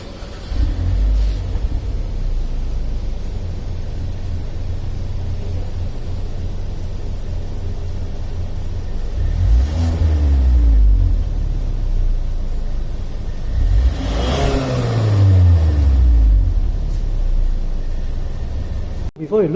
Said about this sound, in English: So let's also listen to the exhaust note of this car.